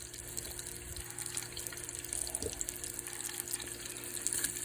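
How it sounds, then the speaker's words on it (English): Chicken gizzards frying in hot oil in a pot, a steady close crackling hiss of bubbling oil with a faint thump partway through. "it looks like they're frying up like they should be"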